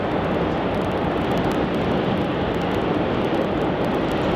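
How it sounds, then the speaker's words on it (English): Air India Flight 308, a heavy jet arriving from Delhi, lands at Melbourne Airport, heard as a steady, dense wash of broadband jet roar that holds at an even level throughout without any distinct peaks. "we've got a heavy arrival in just a moment. It'll be Air India Flight 308 arriving in from Delhi"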